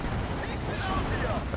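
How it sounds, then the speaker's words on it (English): Bombing strike from a B-26 Marauder in Steel Division: Normandy 44, heard as a dense, continuous rumble of explosions with steady low booms packed together throughout. "Marauder coming in with its bombing strike"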